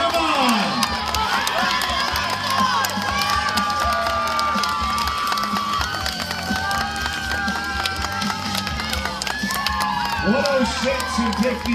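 A crowd cheers and shouts for a runner in a men's relay race at the Spruce Meadows Nationals, loud sustained whoops and yells with children's voices, near and continuous throughout.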